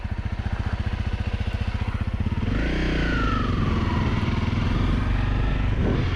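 A Honda CRF250L dual-sport motorcycle rides at off-idle speed, about five miles an hour, its single-cylinder engine thumping in a steady rapid pulse that smooths into a continuous drone, with a brief whine midway.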